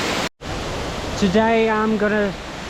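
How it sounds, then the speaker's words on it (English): The Silver Waterfall in Sapa, Vietnam, gives off a steady, broad rush of falling water that fills the background, broken by a brief dropout near the start, while a voice briefly sounds over it. "Silver Waterfall in Sapa, Vietnam"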